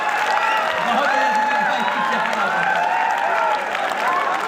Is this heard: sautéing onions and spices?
no